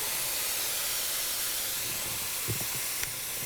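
Brandy hits a hot pan while making Italian chicken in a brandy tomato cream sauce: a loud, steady broad hiss and sizzle that fills the whole stretch, with faint pops and clinks and no talk.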